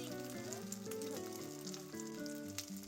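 Zucchini jeon fries over low heat in a frying pan, a continuous close sizzle with soft crackles running steadily from start to finish, with background music and no talking.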